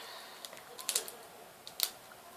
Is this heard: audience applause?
no